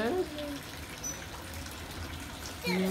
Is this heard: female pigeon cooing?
no